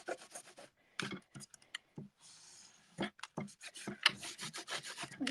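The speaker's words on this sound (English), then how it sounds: "you can just take a baby wipe and wipe off your embossing folder." A baby wipe rubbed over a plastic embossing folder to clean off stamping ink, giving a series of short, close scrubbing and rubbing strokes in irregular bursts, fairly quiet, with no talking.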